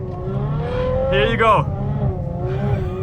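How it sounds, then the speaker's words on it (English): Ferrari F12 engine droning and revving on a snowy road, a steady low rumble with a brief rising whine midway, while someone talks over it. "So if you ever wonder what driving a Ferrari in the snow feels like"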